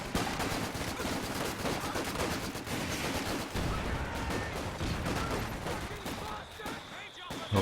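Rapid bursts of machine-gun fire and other gunfire crackle continuously through a Company of Heroes 2 2v2 battle, dense and busy beneath an excited commentator's voice.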